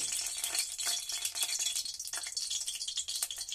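Spice paste spluttering and crackling in hot oil in a karahi while cooking a Bengali chuno puti fish jhal, a steady dense sizzle with bursts of popping throughout, close and fairly quiet with no talking.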